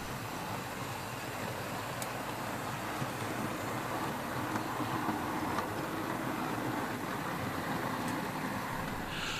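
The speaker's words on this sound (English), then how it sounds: "We see Leadenhall passing with another passenger service." Model Terrier locomotive Leadenhall hauling a passenger train past, a steady rolling rumble with faint rail clicks at intervals, moderately loud and continuous throughout.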